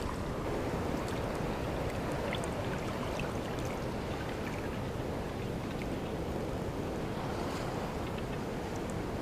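Ocean waves surge over coastal rocks in a steady, loud, unbroken wash of churning surf, with wind buffeting the microphone and no voices.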